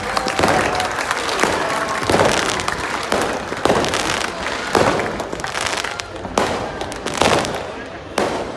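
Applause from an audience at a Fiji rugby sevens event as a commemorative banknote is unveiled, a dense continuous clatter of clapping with sharp bursts throughout, loud and sustained.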